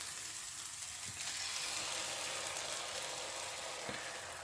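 Two eggs beaten with a little whole milk sizzle in a frying pan for an omelette, a steady, close hiss of frying with faint crackles and no talking.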